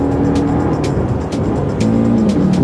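Busy morning street traffic on a city road in the Philippines, a steady loud mass of car and motorbike engines with several vehicles passing close by, no talking.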